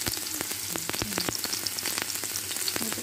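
Onion fries in hot oil, a dense close crackle of quick pops and spits running evenly throughout with no voices.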